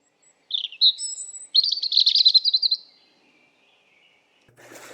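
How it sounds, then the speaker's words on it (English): Several chirping, warbling phrases from European robins in a park in Brighton, England, with a short high opening phrase followed by a longer rapid trilling run, clear and fairly close against quiet surroundings. "he came across in a park in Brighton, England, and recorded this"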